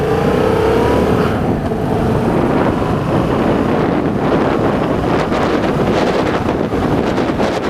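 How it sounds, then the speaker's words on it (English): Strong wind buffets the microphone while a manual-transmission car is driven and shifted, a loud, rough, rumbling roar that fills the whole stretch, with engine noise beneath and no voices. "Oh, windy."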